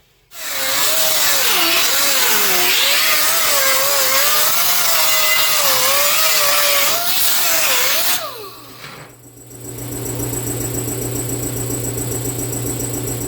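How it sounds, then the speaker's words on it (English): Angle grinder cleaning up the inside edge of a metal piece, a loud, close, sustained whine whose pitch wavers under load, winding down after about eight seconds into a lower steady hum. "I'm going to take the grinder and just give this a quick clean up in here"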